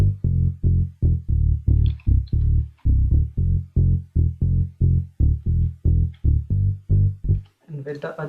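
Synth bass line remade in Logic, playing a repeated pattern on low notes E1, D1 and G1: a steady run of short, punchy, evenly spaced deep notes, loud and alone, ending with a brief brighter burst.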